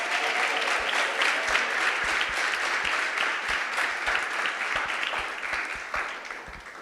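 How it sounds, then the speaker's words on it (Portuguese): A church congregation claps together during a sermon at Videira Goianésia, a sustained, fairly loud wash of many hands with occasional distinct claps, holding steady before easing slightly at the end. "Aplauda o Senhor Jesus."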